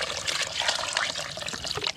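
Water pours into a cooking pot of squash shoots in a rural kitchen, a close, continuous splashing trickle with bubbling gurgles throughout.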